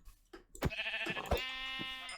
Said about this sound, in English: Ooh, there's a lot of sheep over here.